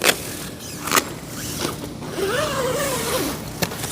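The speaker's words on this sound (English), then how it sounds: "I like that the zippers are all one-handed operation, really smooth." A tent rainfly zipper is pulled open in a smooth, quick one-handed motion, its sliding rasp close and clear between a few brief handling knocks and rustles.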